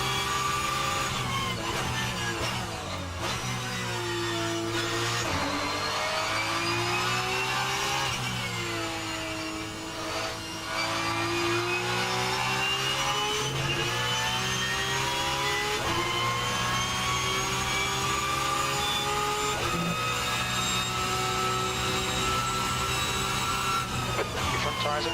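A Porsche Cup race car engine held at a loud, steady drone while driving, its pitch swinging gently up and down with shifts in speed, heard from inside the car with no talking.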